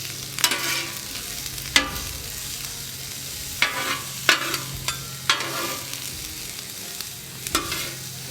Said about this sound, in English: Honestly, I don't think there's anything better than cooking onions and peppers on the flat top.